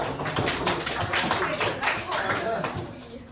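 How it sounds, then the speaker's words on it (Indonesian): Students in a classroom break into a burst of scattered, rapid clapping that fills about three seconds at moderate volume, with voices talking over it before it tapers off. "Kasih tepuk dulu nak."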